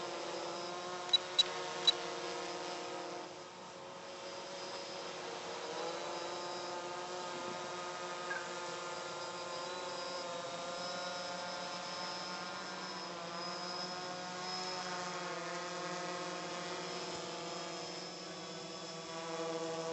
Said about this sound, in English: Getting a little bit of a drift backwards, so we'll trim up the quadcopter elevators.